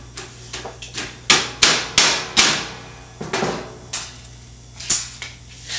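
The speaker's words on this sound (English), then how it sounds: "Take our hammer." Sharp hammer blows strike wood in an uneven series, some quick pairs and some spaced out, close and loud.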